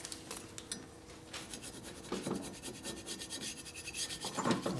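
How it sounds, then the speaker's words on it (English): A gasket scraper scrapes old gasket material off a Harley shovelhead cylinder head from a 1980 engine, close, quiet rasping strokes in an irregular rhythm, getting busier toward the end. "Okay, here's our gasket scraper here. So this is how we scrape the gaskets."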